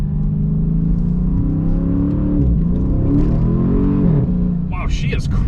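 Dodge Charger SRT Scat Pack V8 accelerating hard in sport mode, its deep engine note rising in pitch with a steady, loud revving drone that continues throughout, with a brief higher whir near the end.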